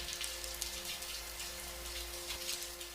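Rain falls steadily in a cartoon, making a dense, even hiss of drops with a faint low hum beneath it, continuous and fairly soft, with no one speaking.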